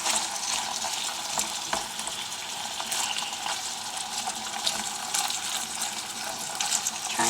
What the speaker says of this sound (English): Alright, now I'm going to add my prawns.